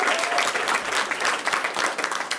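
An audience claps at a state bill signing ceremony, producing a sustained, dense roll of applause from a room full of people, fairly steady in level.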